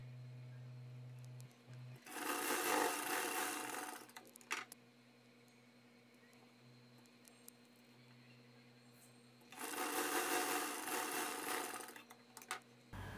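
A sewing machine stitches a blouse front piece in two loud, sustained runs of rapid whirring, separated by a quiet pause with small clicks and a low steady hum; no voices.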